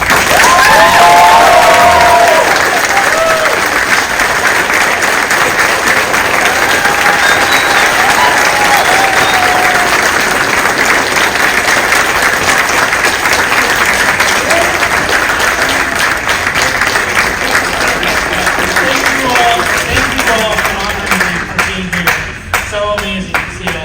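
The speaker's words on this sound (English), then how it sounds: "can we give a big, huge round of applause?" A convention panel audience on Indigenous and Latinx public art and stage-plays-into-comics claps and cheers at the close of the session: a sustained, loud roar of clapping with shouts, thinning toward the end.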